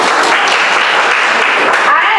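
A school debate competition audience claps for the championship winners, a continuous loud spatter of many hands filling the hall, with voices mixed in beneath the applause.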